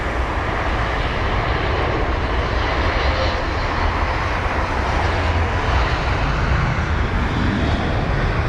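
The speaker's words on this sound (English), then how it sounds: "What aircraft just went past?" A jet airliner roars past at London Heathrow, a loud, broad, continuous engine rumble that holds steady throughout with no speech.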